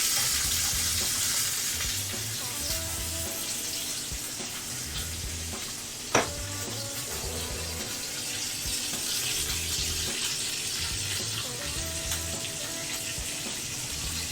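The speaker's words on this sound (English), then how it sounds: "See how we're looking here with our color and our sear." Meat sears in a hot pan with a continuous loud sizzle and crackle, a single sharp clink partway through and occasional stirring noises, close up with no talking.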